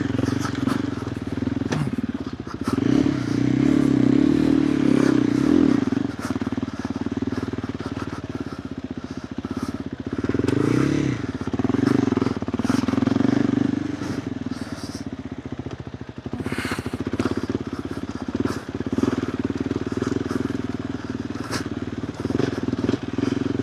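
KTM 390 Adventure R single-cylinder motorcycle fitted with a Norifumi Whoops exhaust, revving steadily through varying throttle on an off-road trail, the engine note rising and falling loudly and near, with occasional thumps and clatter.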